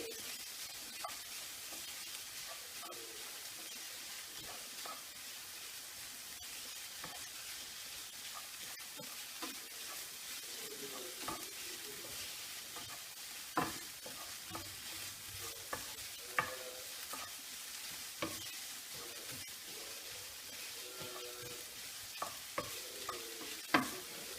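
Cut beef sirloin (faux-filet) frying in a pan as it is stirred, a steady sizzle with scattered sharp clicks of the utensil against the pan, close and without talk.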